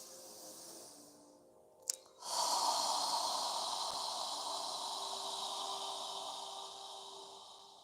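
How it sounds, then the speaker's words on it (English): A slow breath drawn in through the nose and let out through the mouth during a yoga exercise, a long soft airy rush following a brief sniff, close and alone. "inhale through our nose, expanding our lungs as much as we can. And exhale through your mouth."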